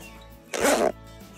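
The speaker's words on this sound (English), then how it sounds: "then I'm going to zip it up first to see the approximate fit" A kayaking life jacket zips up in one quick, close, loud pull lasting under half a second, with quiet room sound before and after.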